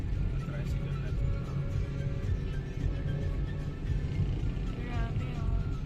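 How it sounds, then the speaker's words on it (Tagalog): A motorized tricycle drones past during heavy rain on a flooded road, its low engine rumble steady and close beneath the wash of rainfall, with people talking nearby. "Tricycle na to."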